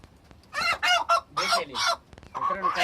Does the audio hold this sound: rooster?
yes